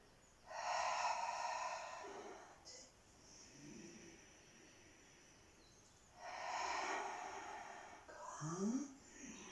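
Breathing during a fitness exercise, heard up close as long airy exhales and inhales in a slow cycle with pauses between breaths.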